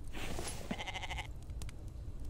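Sheep bleating in the survival crafting video game The Infected: a single wavering bleat lasting about half a second, heard over a dense background of game ambience.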